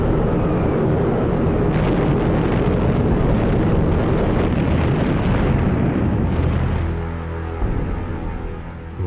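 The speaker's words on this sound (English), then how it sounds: "strikes of up to 500 bombers attacked Japan every other day" Heavy, sustained rumble of massed bomber-raid explosions over Japan in 1945, a dense continuous roar that thins and drops away near the end, with no voices.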